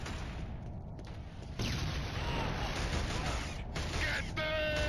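Gunfire in the Killzone shooter, a steady rattle of distant shots in a dense, noisy battle mix, with no voices clearly heard over it.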